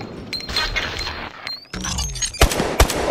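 Gunfire from the video game Call of Duty: Advanced Warfare: rapid bursts of shots and loud close cracks, mixed with whooshes and game effects, ending in two sharp punchy blasts.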